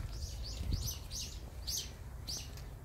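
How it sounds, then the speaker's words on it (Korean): Birds, crows among them, fly around a village on Chilcheondo and give about six short, sharp chirping calls spaced across a few seconds over a low outdoor rumble. "저 새들, 날아다니는 새들, 이름이 다 뭐죠? 까마귀도 있고"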